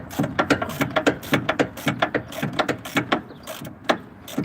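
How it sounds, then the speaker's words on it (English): A ratchet tightens the caliper bolts on a 2005 VW Touran 1.9 TDI, giving rapid close clicking bursts in a repeating rhythm of short strokes. "We're securing the caliper bolts, yes."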